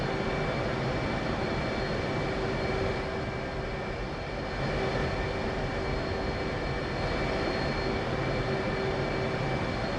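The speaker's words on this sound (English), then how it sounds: "F-15 ready to taxi." F-15 jet engines idling while taxiing in a flight simulator game, a steady loud roar and whine with a continuous tonal hum, unbroken for the whole stretch with no talk.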